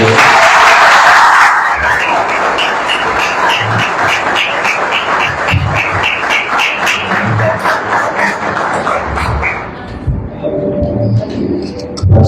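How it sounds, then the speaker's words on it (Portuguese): Congregation at a theology course graduation breaks into applause, loud dense clapping that swells at first, then thins into scattered claps and cheers under a voice and some background music. "Vamos bater palmas aqui"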